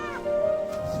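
A cartoon kitten gives one drawn-out, high, clear meow lasting about a second, loud and close.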